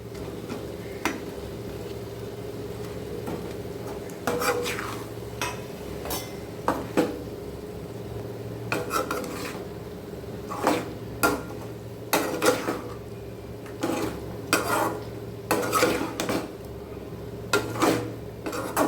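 Chicken pieces being stirred in a pan while cooking chicken 65 thokku, a spoon scraping and clinking against the metal in irregular bursts over a steady low background hum.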